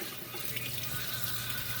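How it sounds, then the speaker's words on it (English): Cold tap water runs steadily over salt fish being rinsed in a kitchen sink, a soft, even splashing hiss that holds level for about two seconds with no talking. "what I'm going to do is I'm going to rinse it out with cold water"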